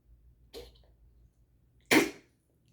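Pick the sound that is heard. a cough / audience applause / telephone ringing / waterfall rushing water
a cough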